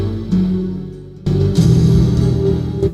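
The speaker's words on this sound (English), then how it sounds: "this is the sound of the pan in the water" A hot pan plunged into water, recorded as a fire sound effect for a fantasy game soundtrack: a low rumbling hiss that drops out briefly, then returns as a fuller, louder surge of crackling, roaring steam, heard alone.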